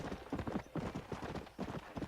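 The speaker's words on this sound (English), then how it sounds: "I'm pretty sure John is riding in Western style." Horse hooves clip-clop at a steady riding gait in the Red Dead Redemption video game, rhythmic clustered thuds repeating throughout, moderately close but fairly quiet.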